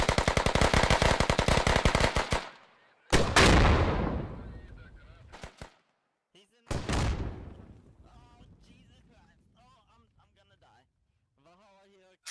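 Bursts of automatic gunfire and heavy shooting from the tactical military shooter Squad, loud rapid fire at the start, then separate blasts fading into echoing decay, with voices talking beneath the combat.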